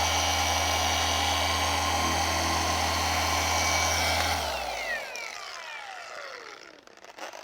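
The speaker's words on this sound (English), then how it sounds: "I'm overlapping by about 1 inch on each pass of the polisher" A polisher buffs plastic car trim, a loud steady whine with a low hum that winds down about halfway through, its pitch sliding away into quieter handling sounds.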